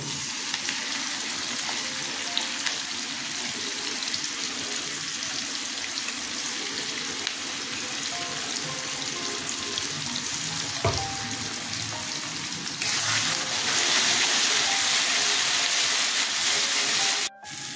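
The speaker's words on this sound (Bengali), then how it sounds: "এবার আমি কাঁচকলার খোসার পেস্ট ঢেলে দিচ্ছি।" Raw banana peel paste hits half-fried onions in hot oil, and a steady close sizzle turns louder and brighter near the end as the wet paste spreads through the pan, with a few soft clinks and stirring scrapes.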